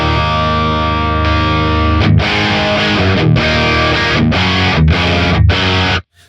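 Electric guitar played dry, with no midrange boost pedal, through a driven amp: a sustained distorted chord rings out, then a run of rhythmic strummed chords with short choked gaps, loud and close before cutting off.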